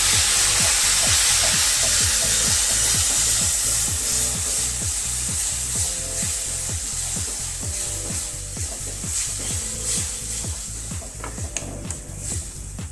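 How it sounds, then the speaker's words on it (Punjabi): Onion, tomato and spice masala roasting in a pan for an aloo baingan sabji, giving a steady close sizzle with rapid rhythmic scraping and stirring strokes throughout, no talk. "ਮਸਾਲੇ ਪਾ ਕੇ ਹੁਣ ਆਪਾਂ ਇਹਨੂੰ ਭੁੰਨ ਲਵਾਂਗੇ"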